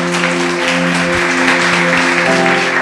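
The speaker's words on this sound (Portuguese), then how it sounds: "Louve a Deus com suas palmas, bem forte." Loud, dense hand clapping from a church congregation during a sermon fills the space continuously, with sustained tones from instruments or a keyboard holding underneath.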